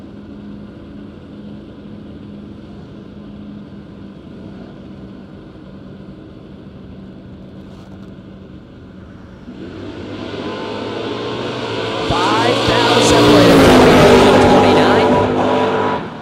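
A Chevy S10 and a Fox body Mustang launch in a footbrake drag race, opening with a low idle before both engines swell into a loud, roaring burst that peaks and fades near the end.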